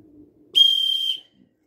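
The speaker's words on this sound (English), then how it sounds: "So I'm going to do the loud one now." A single loud, shrill blast from an emergency survival whistle lasting about half a second, steady and piercing, following a faint low murmur.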